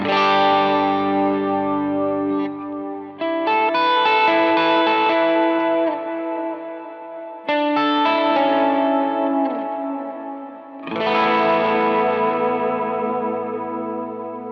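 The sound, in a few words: guitar dual delay ping-ponging side to side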